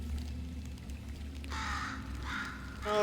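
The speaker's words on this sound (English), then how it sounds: "What's a bird even doing this far down?" In the Portal video game, a bird caws twice in harsh, drawn-out calls over a low steady mechanical hum, with a third call just starting at the end.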